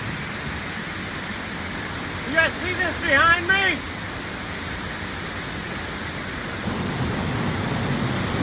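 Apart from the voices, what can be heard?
waterfall rushing at night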